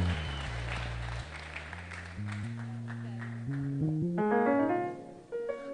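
Crowd applause at a church service attended by political leaders, a burst of clapping heard under loud sustained keyboard music and amplified talk in a large gathering.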